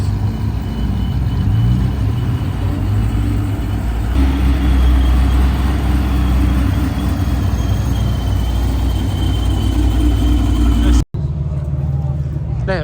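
A car's engine rumbles steadily and loudly as it pulls in and parks at a night car meet, a dense low drone filling most of the clip before a sudden brief cutout near the end, with voices underneath.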